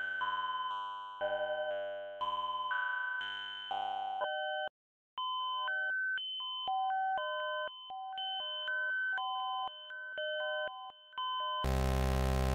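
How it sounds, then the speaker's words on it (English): Synthesizer tones from the Osci-Render software, processed with a delay echo effect: sustained chords give way to a stepping sequence of clean beeping notes with faint repeats trailing behind, ending in a burst of bright noise. "Next up is the delay effect, which plays back the audio at a configurable number of seconds later"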